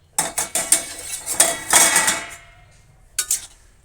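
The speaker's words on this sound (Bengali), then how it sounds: "দেখো আমি ঢেকে দিচ্ছি।" A lid clatters onto a metal pot of cooking taro greens, with several sharp clanks and rattles over about two seconds and a final pair of clinks shortly after, close and fairly loud.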